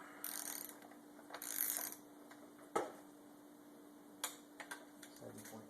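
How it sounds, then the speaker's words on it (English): A torque wrench tightens the delivery pipe on a 2000 Yamaha YZF-R1 engine during a rebuild, giving faint ratcheting ticks and one sharp click midway, all quiet against a low background hum. "And torque that delivery pipe."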